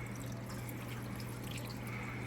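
Water poured into a pot of simmering chicken paprikash, a steady liquid rush and trickle running continuously and fairly quiet, with no talk over it.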